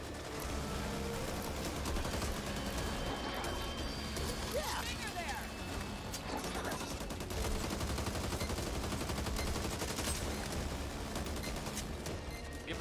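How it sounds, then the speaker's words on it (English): Minigun fire in the video game Back 4 Blood, a dense, continuous rattling barrage sustained throughout alongside game noise, with voices talking over it. "I'm gonna get on the minigun over here."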